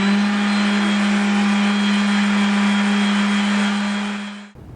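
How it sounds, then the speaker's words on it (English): A sander fitted with a 2000 grit pad smooths a water-based poly finish on cabinet parts, a steady close whirring drone that runs continuously and cuts off near the end. "I've got a 2000 grit sanding pad in my sander here"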